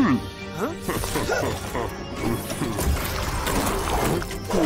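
A cartoon robot's garbage compactor whirs and clanks, with ratcheting, gear-like mechanical sounds and swooping effects running through, mixed with a speaking voice.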